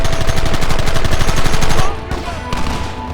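A loud, rapid volley of gunfire in the Red Dead Redemption 2 video game crackles continuously for almost two seconds, then cuts off, leaving quieter scattered shots and rumble.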